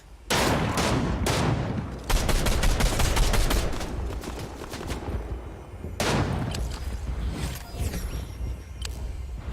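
Rapid gunfire in the video game Fortnite: dense, loud bursts of automatic shots and sharp single cracks close by, with short pauses between volleys and no talking.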